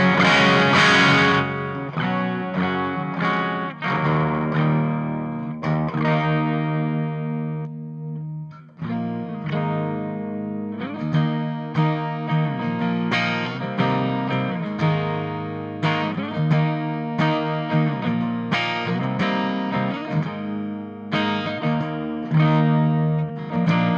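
An electric guitar plays through the vintage channel of a Victory amp with rolled-back distortion, strummed chords and picked notes ringing out in a warm, lightly driven tone, steady and close with no voices.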